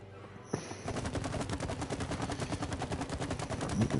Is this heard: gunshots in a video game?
yes